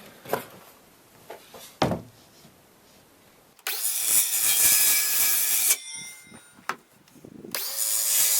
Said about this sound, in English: I'm just going to go ahead and use my circular saw to cut that out